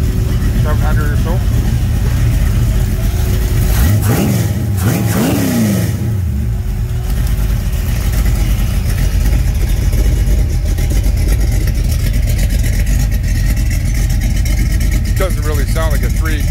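A Mopar small-block 318-based stroker V8 on a 650 or 750 carburetor runs loud and close, idling rough and then revving sharply twice before settling back to a lumpy idle.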